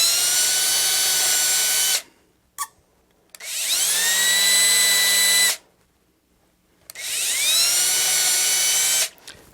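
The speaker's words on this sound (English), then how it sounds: "you can take your bit and drill out your mounting screws" A power drill drills out the mounting screws on a Telecaster build, sounding as three loud, steady whining bursts of about two seconds each, separated by short pauses, with no voices.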